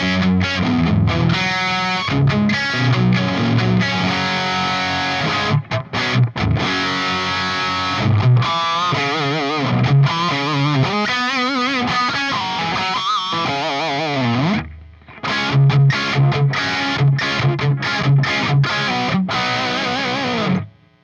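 Electric guitar through a Soldano-style amplifier with chorus and room effects switched off, a dry, mildly driven tone playing a continuous phrase of chords and single-note lines with a brief pause near the end.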